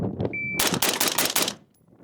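A shot timer beeps once, then a fast string of suppressed gunshots cracks out in quick succession, close and sharp, fading to quiet after.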